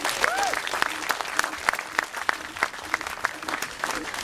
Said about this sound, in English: So I think another little clap for my 9 blue friends here.